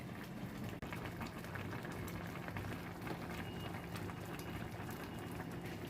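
Odong noodles with sardines bubbling in a pot, a continuous soft, dense simmering burble at moderate distance with no one talking.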